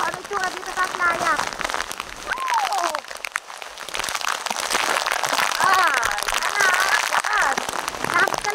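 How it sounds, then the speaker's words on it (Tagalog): Heavy rain pours down at a beach, a dense, constant hiss of drops hitting surfaces that continues the whole time, with a person talking over it. "Tingnan natin ang itsura kapag ganitong nabulusok ang ulan."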